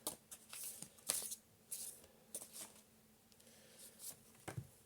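Tarot cards shuffled by hand, a series of soft, close riffling and sliding bursts at an uneven rhythm, quiet and with no talking.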